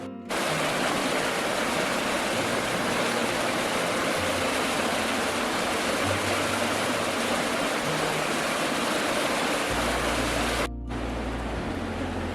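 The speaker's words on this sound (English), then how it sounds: "That's the Alfred River down there." The Alfred River rushes below a bush track in Lewis Pass National Reserve in winter, a steady broadband hiss of flowing water heard from a distance, continuous and unbroken.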